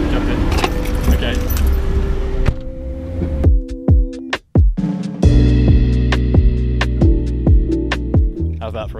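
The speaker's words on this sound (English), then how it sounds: "House keys and car keys." A bunch of house keys and car keys jangles in the hand right beside a car, bright metallic clinks and rattles repeating in bursts over a steady engine hum.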